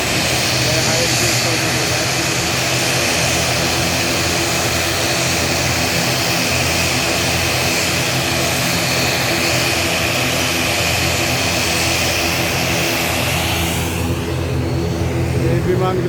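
Aircraft engines roar loudly and steadily at an airport as several planes wait in line for departure, a continuous near drone with a strong whine that eases off at the end.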